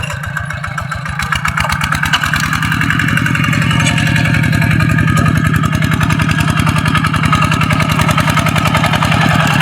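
A tractor engine chugging steadily while plowing a rice field, a loud, close, rapid mechanical putter that holds an even rhythm throughout with no talking.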